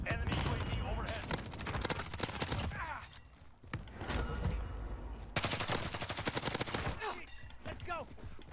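Rapid bursts of gunfire in Call of Duty Warzone, loud, close automatic fire in several clusters with brief pauses between, with players talking over it.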